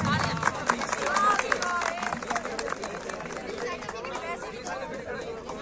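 A crowd at an army academy event claps and cheers for runners, producing a steady patter of applause and chatter beneath a speaker's voice.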